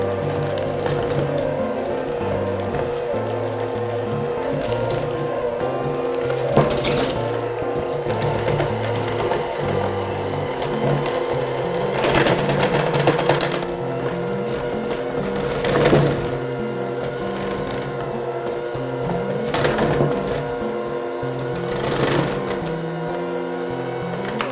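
An electric mixer whirs steadily through maple sugar cookie icing in a bowl, a continuous close motor drone with periodic louder bursts as the beaters knock and scrape against the sides.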